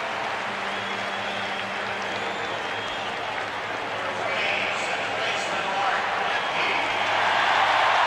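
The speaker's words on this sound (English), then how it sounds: "Mark Lemke is warmly applauded here." A packed ballpark crowd at Game 4 of the 1991 World Series, Minnesota Twins at Atlanta Braves, applauds batter Mark Lemke with a steady, dense roar of clapping and cheering that swells louder toward the end.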